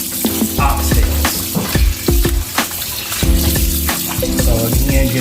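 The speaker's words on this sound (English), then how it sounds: "I'm rinsing until my water comes out clear" Oxtails being rinsed under a running tap in a kitchen sink, a loud steady stream of water splashing over the meat with wet handling clatter and sloshing throughout.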